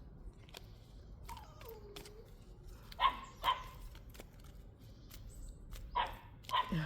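Dogs shut away in another room give a few muffled barks and yips, distant and faint, in two short bursts separated by quiet stretches.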